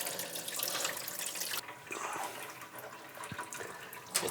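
Water pours steadily out of the drain filter of a GE washing machine, a continuous close splashing gush that changes slightly partway through, with no voices.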